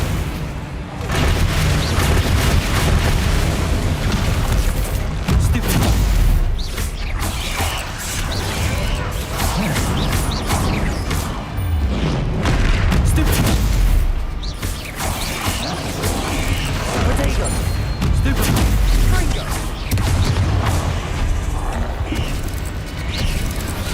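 Repeated Bombarda spell blasts from Hogwarts Legacy gameplay, heavy booming explosions with rumbling, creaking debris, loud and dense across the whole stretch, firing in waves with short dips between.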